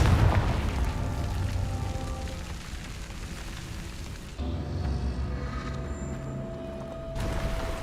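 Fire-blast spells explode in Hogwarts Legacy, with a heavy booming burst followed by a rumbling, crackling tail, then a sharp shift into another dense, roaring blast that sustains loudly with no talk over it.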